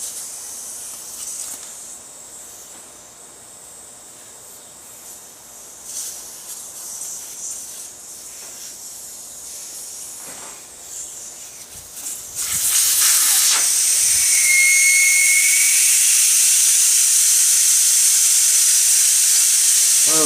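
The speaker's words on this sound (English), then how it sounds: "Get most of the air out of there so when I pop that stem out of there it doesn't blast off and hit me in the face." Air rushes out of a tire valve stem in a loud, steady hiss that begins abruptly partway through and keeps going, after a quieter stretch of faint handling noise.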